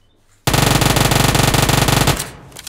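Sustained automatic gunfire in the battle royale game PUBG Mobile, a loud rapid burst of evenly spaced shots lasting about two seconds after a quiet start, then cutting off.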